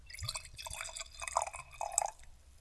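Maker's Mark whiskey pours straight from the bottle in a faint, close trickle of gurgling liquid lasting a couple of seconds, quiet and alone.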